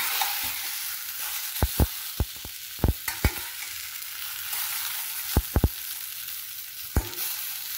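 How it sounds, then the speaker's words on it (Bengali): Mustard oil frying in a pan as black cumin seeds and crushed garlic go in, a low steady sizzle broken by a scattering of sharp stirring clicks and knocks, close up with no voices. "এবার প্যানে বেশ খানিকটা সর্ষের তেল গরম করে তাতে 1 চামচ কালো জিরে ফোড়ন দিয়ে আর কিছু থেতো করা রসুন এর মধ্যে দিয়ে দেব।"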